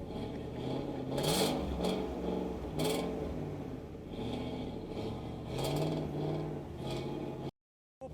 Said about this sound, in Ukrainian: І завожу вам, послухайте, зараз цікавий вихлоп.